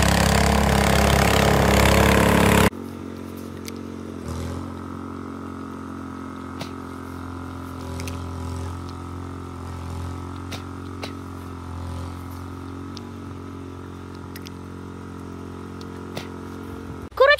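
A homemade snow-clearing machine built from a motorcycle runs steadily, its small engine droning at an even pitch with a faint rattle, after a loud burst of wind-like noise at the start and a sharp clatter at the end.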